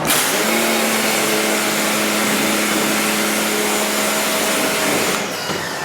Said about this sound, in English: I'll bring it out and then hit it with the compressor, so I can blow out all the running uncured emulsion.